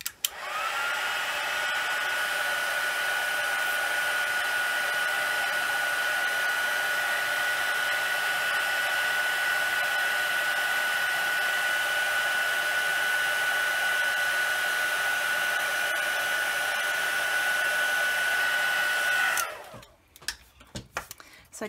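A heat tool blows steadily and loudly for about nineteen seconds, melting embossing powder on a stamped card, with a thin high whine over the rushing air before it cuts off abruptly.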